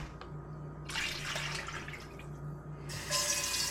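Water runs from a tap while something is washed, splashing in two bursts with a short pause between, close by and fairly quiet, with no talk.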